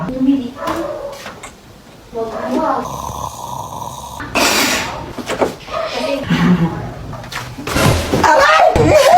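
A door is opened and banged shut indoors with loud, abrupt thuds and rattles, mixed in among people talking and snorting nearby.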